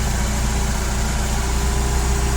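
Petrol 1.5-tonne forklift with a four-cylinder carburettor engine idles steadily, a dense, even, continuous rumble heard close with no voices.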